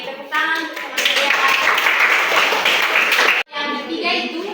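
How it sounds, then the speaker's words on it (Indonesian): Children in an Indonesian geography classroom clap their hands together in a loud, dense burst of claps that stops abruptly, with young voices mixed in before and after. "Oke, tepuk tangan bersama saya."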